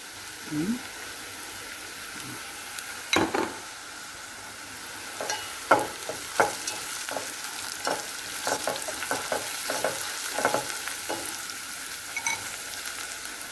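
Whole spices fry for a shrimp curry: cardamom, clove and cinnamon stick. A steady sizzle sits under repeated scraping strokes of a spoon, close by and moderately loud.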